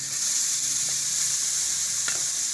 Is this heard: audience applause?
no